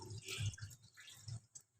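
Basmati rice is swished by hand in a bowl of water, making soft, irregular splashes and drips close by with quiet pauses between them.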